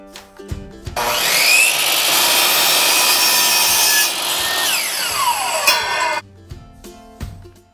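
Power saw cutting angled pieces of wood for wooden dividers in a camper van's overhead storage compartment; a loud, sustained buzzing cut of several seconds, winding down at the end, with quieter handling sounds before and after.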